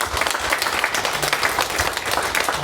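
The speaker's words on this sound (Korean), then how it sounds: "하나님께 영광의 박수 한번 올리겠습니다" Church congregation at a New Year's Eve service giving a short burst of dense, steady applause, close and loud throughout.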